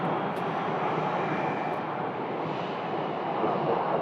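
A small airliner, a Metroliner, lands at Phoenix Sky Harbor Airport, its engine roar a steady, broad rumble heard from a distance, with no one speaking.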